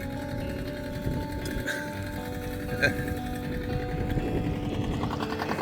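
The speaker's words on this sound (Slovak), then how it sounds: "A traktor plážový." A beach tractor's engine drones in a steady low rumble with a mechanical rattle on a Croatian Adriatic beach, continuous and fairly close, with faint background activity.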